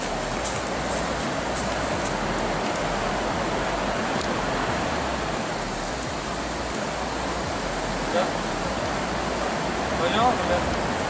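Steady broadband rush of a waterfall near a trout fishing spot, continuous and fairly loud, with faint scattered clicks over the constant roar.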